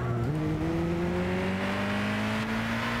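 A Nissan GT-R Calsonic GT500 race car in a racing game accelerates hard, its engine note climbing steadily after a quick upshift, loud and close with a whirring drivetrain tone and no talk over it.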